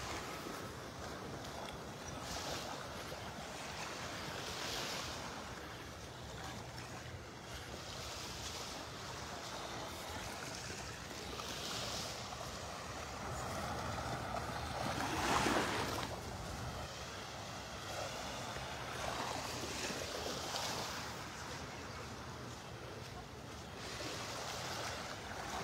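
Gulf waves wash steadily along Vanderbilt Beach in North Naples, Florida, a continuous broadband surf wash with gentle swells and light wind, mid-distance and moderately loud, no voices.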